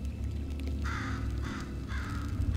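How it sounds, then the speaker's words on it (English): A crow-like bird in Portal 2 caws three times in a harsh, rhythmic series over a steady low mechanical hum, moderately loud and near. "And GLaDOS is being attacked by a bird."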